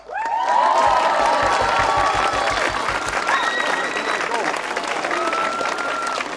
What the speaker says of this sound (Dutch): ik zou graag een extra applaus hebben